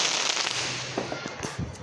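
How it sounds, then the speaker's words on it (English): Distant fireworks popping and crackling outdoors, a handful of sharp bursts scattered over a steady background hiss, irregular and moderately faint. "Where are those fireworks even coming from?"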